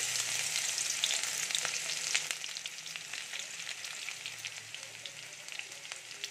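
Chopped garlic fries in hot oil left over from frying paneer, making a constant crackling sizzle with dense small pops that eases slightly over time. It is moderately quiet and close, with no talk.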